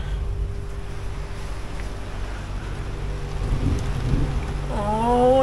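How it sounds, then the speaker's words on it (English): Heavy rain falls steadily as a loud, continuous hiss and patter, close by, and grows somewhat stronger near the end. "it's been raining pretty hard"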